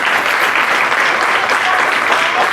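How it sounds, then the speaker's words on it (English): A student leadership workshop audience gives a round of applause, dense, even clapping from many people, loud and sustained from start to finish with no talk over it. "Let's give her a big round of applause"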